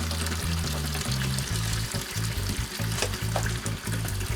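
Cold water pours steadily from a tap over a dirt bike air filter, a continuous close splashing rush that runs the whole time without talk.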